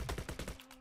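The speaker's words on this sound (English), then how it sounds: "there's a guy shooting me from behind" Gunfire in the Roblox game Brickbattle Royale: a quick burst of about five rapid shots in under a second, fairly close, followed by a fading tail.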